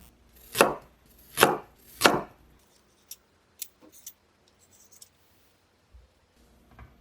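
Three sharp knife chops on a cutting board cut carrots into large chunks, evenly spaced and close, followed by a few faint clicks and small kitchen taps in near silence.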